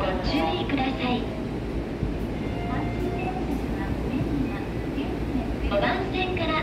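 A Kintetsu electric train pulls out from platform 5, a low continuous rumble and rolling hum filling the station, while a platform announcement voice speaks over it and a few faint higher tones break through.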